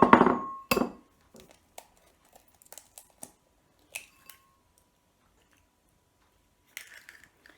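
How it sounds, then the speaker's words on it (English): A large egg is cracked into a bowl while scone batter is being made, a sharp crack and tap at the start, followed by faint scattered clicks and small knocks in a quiet kitchen. "I'm going to crack in my large egg."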